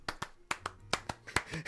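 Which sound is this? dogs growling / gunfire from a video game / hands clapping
hands clapping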